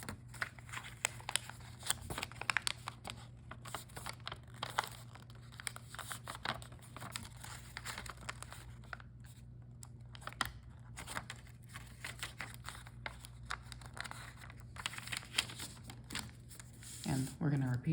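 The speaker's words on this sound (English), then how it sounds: "we're going to do one last inside reverse fold here" Soft crinkling and creasing of paper as an origami mouse is folded with an inside reverse fold, quiet repeated rustles under a speaking voice throughout.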